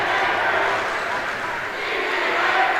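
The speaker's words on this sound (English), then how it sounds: "Crowd's back into it." Crowd noise at a high school volleyball match between Summertown and Gordonsville, a steady roar of cheering spectators in a gym, loud and continuous throughout, with indistinct voices mixed in.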